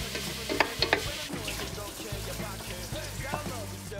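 Onion and meat fry in butter in a pan with a soft, close sizzle, interrupted by a few utensil clicks and scrapes and some low background murmuring.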